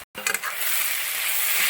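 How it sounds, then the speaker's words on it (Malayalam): Okra curry frying in a pan for a Kerala-style mappas, stirred after the lid is lifted: a short scrape and clatter, then a steady loud sizzle. "അടപ്പ് പൊക്കി ഇളക്കി കൊടുക്കുന്നു."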